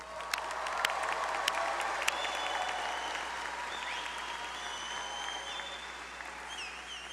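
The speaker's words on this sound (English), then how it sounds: "A lot of applauding and clapping." Steady, sustained applause and clapping from a large crowd at a Texas State University graduation ceremony, dense and continuous throughout with faint cheering mixed in.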